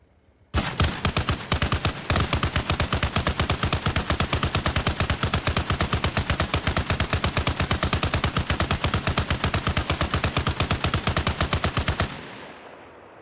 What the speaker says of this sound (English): Equipped with a 50 cal machine gun, what kind of damage could you expect if you're up against one of these?